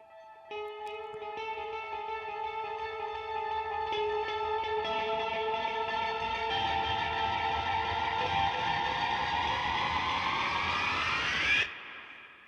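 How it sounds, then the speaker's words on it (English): A riser built from a Space Echo-style delay pedal for a dance track: layered repeating tones swell and climb steadily in pitch and brightness over about eleven seconds, building to a dense wash before cutting off abruptly. "we kind of made a riser with a delay, like a guitar pedal, a delay pedal."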